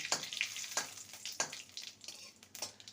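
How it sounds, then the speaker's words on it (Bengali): Whole spices, bay leaf and a dried red chilli crackle and sizzle in hot oil, with soft popping bursts over a steady frying hiss, close up and with no talking. "একটা শুকনো লঙ্কা ফোড়নটাকে ভেজে নেব"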